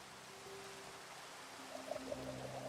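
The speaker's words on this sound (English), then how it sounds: "Rain falling." Rain falling in Minecraft with the Cobblemon mod, a very faint, steady watery pour and trickle, with a few soft drips and tones rising near the end and no talking.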